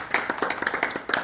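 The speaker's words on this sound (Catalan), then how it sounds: "Un aplaudiment per tots i totes." Audience at a mental health talk clapping after a breathing exercise, a short, sparse burst of separate claps from a small group, fairly quiet and close.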